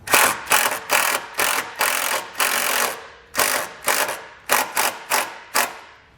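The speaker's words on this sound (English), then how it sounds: "then we can come back with our self-tapper and secure our ring terminal" A self-tapping screw is power-driven into a pre-drilled hole on a 2011 Chevrolet to secure a wiring ring terminal, heard as a series of loud, close ratcheting driver bursts separated by short pauses.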